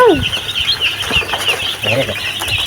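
Chicks and chickens cheep and cluck inside a coop under a running fan, with steady high peeping close by and occasional louder calls.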